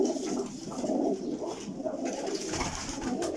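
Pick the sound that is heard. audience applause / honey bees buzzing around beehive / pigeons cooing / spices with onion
pigeons cooing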